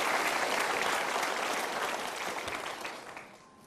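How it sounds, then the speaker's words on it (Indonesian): A studio audience at a motivational talk show breaks into dense, sustained applause that holds strong for about three seconds before tapering off. "Kita berikan tepuk tangan"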